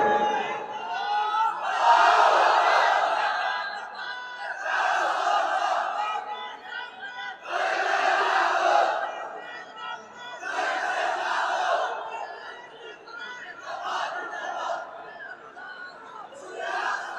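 A large crowd at a religious gathering chanting the takbir, Allahu Akbar, in loud repeated waves of shouting, roughly six rounds with brief lulls between them.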